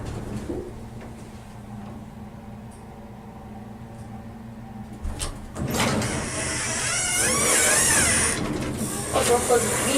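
Vandalized Lodestar elevator doors at an OfficeMax in Sacramento, California slide open with a rising mechanical hiss and rumble after a quiet stretch, and faint voices can be heard nearby.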